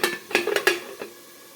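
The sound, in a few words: pot lid handled on cooking pot of chicken curry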